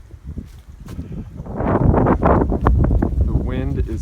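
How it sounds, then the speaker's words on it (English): Cold wind on a mountain trail buffets the microphone, gusting from faint to loud and roaring rumble, with a voice briefly audible under the noise. "The wind is so cold up here."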